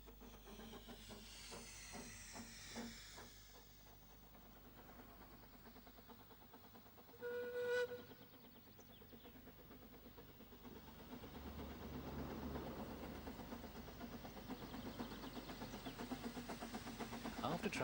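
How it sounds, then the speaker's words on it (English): A steam locomotive pulls out of Porthmadog station, with faint distant rhythmic chuffing and hissing steam, a short whistle-like tone, and a rising rumble of the train. A voice talks over part of it. "Pulling out of the station in Porthmadog, the locomotive fights for traction, the slipping being skillfully controlled by the experienced driver."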